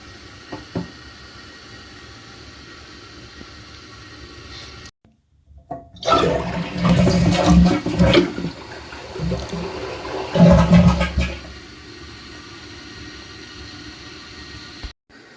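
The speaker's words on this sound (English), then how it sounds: "single flush handles, the more you hold this down, the more water comes out anyway" A Kohler toilet with a manual single flush handle flushes once, a loud rushing surge of water lasting several seconds after a brief pause, then settling back to a steady refill hiss.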